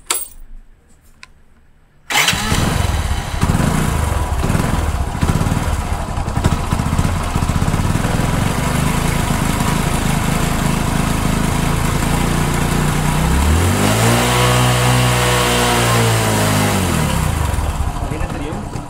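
An engine on a LiFePO4 battery with an electric self-starter fires up abruptly after a couple of seconds of near silence, then settles into a loud, steady idle before revving up and back down near the end.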